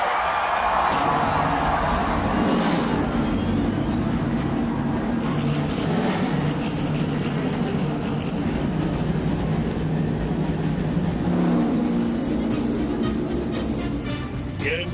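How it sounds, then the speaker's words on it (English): Race car engines fire up at the 2011 Budweiser Shootout, a loud continuous roar of many engines blended with crowd noise at the speedway, holding steady throughout. "Gentlemen, start your engines!"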